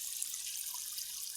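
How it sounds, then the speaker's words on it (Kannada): Steady close trickle of water dripping in a maize field, a soft even hiss with no talking. "ಸ್ವಲ್ಪ ನೀರು ಬೀಳ್ತಾ ಕಾಣಿಸ್ತಿದೆಯಾ?"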